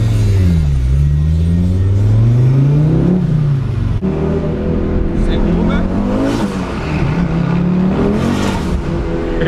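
A Fiat Marea turbo with 600 hp accelerates hard, its engine note climbing through gears in loud rising sweeps with shifts, while occupants talk inside the car.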